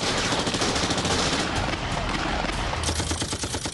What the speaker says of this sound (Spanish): Había tiros tanto fuera de la residencia como dentro